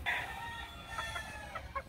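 A black hen clucks faintly in a few short bursts over a low background murmur, sounding somewhat distant.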